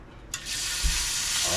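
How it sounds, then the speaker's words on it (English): Pieces of rouladen drop into a hot skillet of bacon grease and burst into a loud, close sizzle that starts abruptly and holds steady. "We're about to put these pieces of rouladen inside of this hot bacon grease skillet"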